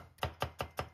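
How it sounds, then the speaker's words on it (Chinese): A knife slices a carrot on a cutting board in four evenly spaced, crisp chops, close and clear with nothing else around them. "準備一個胡蘿蔔，我們先切片"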